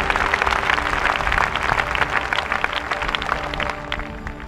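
Loud, continuous applause from a church congregation at a fasting prayer service, dense overlapping claps sustained throughout without a break.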